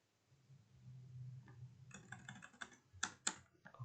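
Computer keyboard keys pressed in a quick cluster of crisp clicks, including a shift-and-enter combination, close and fairly quiet over a low room hum, with no talking.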